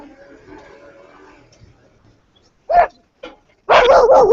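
A pet dog barks at a mailman, a few sharp separate barks followed by a louder, sustained burst of barking close by. Faint talk comes before it.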